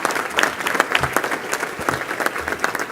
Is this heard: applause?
yes